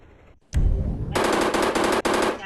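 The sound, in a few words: machine gun firing in a video game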